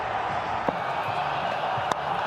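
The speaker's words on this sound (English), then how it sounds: "Pakistan crowd on their feet out at mid-wicket." A Pakistan crowd roars steadily at a one-day cricket match against Australia, a broad, constant wash of cheering with a couple of sharp pops standing out.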